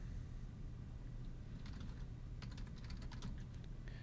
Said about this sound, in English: I'm going to do that by typing Gnuplot and then the name of the file.